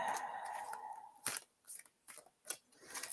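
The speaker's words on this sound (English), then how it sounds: "You can probably hear the cards shuffling" Tarot cards are shuffled in close, quiet, repeated riffling bursts with short pauses between them, faint and intimate.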